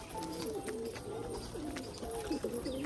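Rajshahi pigeons coo in a series of soft, rolling calls, several overlapping coos repeating close by over a steady low background hum.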